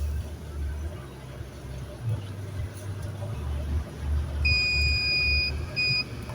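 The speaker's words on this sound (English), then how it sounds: "That's all the sensors beeping." A truck's proximity sensors sound a steady electronic beep while the truck brushes past roadside bushes and trees. The beeps come near the end of the clip over a low engine drone.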